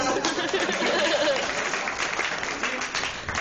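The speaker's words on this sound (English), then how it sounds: "Quick applaud." Applause from a comedy club audience, a dense, steady patter of clapping mixed with some chatter and chuckles that runs the whole time and slowly thins toward the end.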